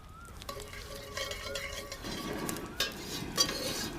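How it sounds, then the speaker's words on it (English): Mustard seeds and curry leaves in hot coconut oil, a fine crackling sizzle that builds and thickens partway through, with a couple of light utensil clinks against the pan, close and fairly quiet. "So our mustard seeds and our curry leaves are crackled."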